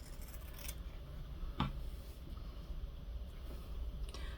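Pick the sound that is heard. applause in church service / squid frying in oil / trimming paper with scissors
trimming paper with scissors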